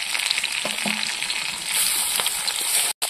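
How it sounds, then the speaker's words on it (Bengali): Loud, dense sizzling fills the frying pan as fried potatoes and ginger-garlic paste go in for a village-style katla fish curry, a continuous bright hiss with brief stirring knocks and a momentary cut near the end. "ভেজে রাখা আলুগুলো দিয়ে দেবো। আদা রসুন বাটা দিয়ে দেবো।"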